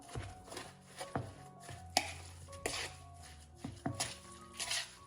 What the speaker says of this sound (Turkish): Şimdi bunu güzelce bir karıştıracağım.